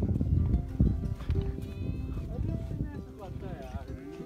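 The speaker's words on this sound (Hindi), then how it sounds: "ये देखो यहाँ पर दोबारा से हमारे पास भेड़ बकरी वाले मिल गए हैं" Sheep and goats with herders on a mountain trail to Saru Lake near Chanshal, Rohru, bleating in wavering calls amid hoof clatter and wind, partly under people talking nearby.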